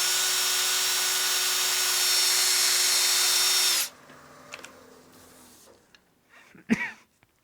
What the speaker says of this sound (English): I'm going to sand just a hair more on the rim here